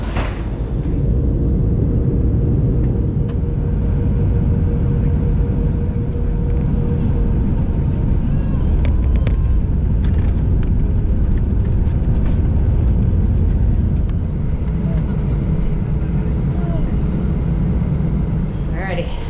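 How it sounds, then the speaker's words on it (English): Steady, loud airliner cabin roar with a deep, even engine drone throughout a flight to Paris Charles de Gaulle, as people talk over the noise. "Time to get on our flight to Charles de Gaulle, France."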